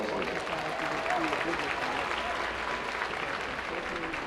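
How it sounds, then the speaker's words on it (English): A commencement audience gives sustained, even applause for the valedictorian, a dense wash of clapping from many hands throughout, with no pauses. "Yes, we can give him a round of applause for him."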